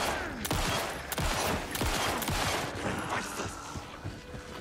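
Loud, rapid gunshots from the Alan Wake II video game crack close by in a dense volley, each shot sharp and echoing, with a few short pauses between bursts.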